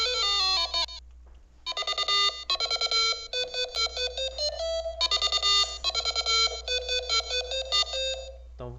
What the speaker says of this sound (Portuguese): o som de encostar tá funcionando